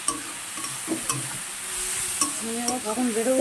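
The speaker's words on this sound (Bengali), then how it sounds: "হলুদ গুঁড়ো দিয়ে দিলাম। এবার এটাকে ভালো করে ভাজতে হবে।" Turmeric powder sizzles in hot oil in a pan for an egg curry, a soft constant fry under repeated spoon scrapes and clinks that grow busier toward the end.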